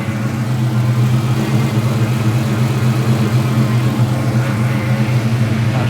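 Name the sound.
Ford Mustang SN95 engine running after reinstall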